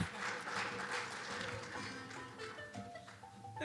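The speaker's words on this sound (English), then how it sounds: "Give yourself a round of applause." Audience applause in a university hall after a live music performance, a steady dense patter of clapping with no talk over it, thinning slightly toward the end.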